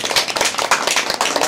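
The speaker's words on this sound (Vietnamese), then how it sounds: "Rồi con vỗ tay lên" Wedding guests clapping at a Vietnamese bride's farewell ceremony in Long An, a dense, steady burst of many hands close by, with a faint voice underneath.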